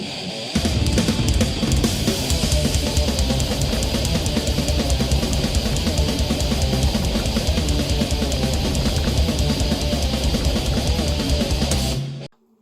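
Intro of a death metal song, from a band's 1989–1993 era: a dense, loud wall of distorted guitars and rapid drums running steadily for about twelve seconds before cutting off abruptly.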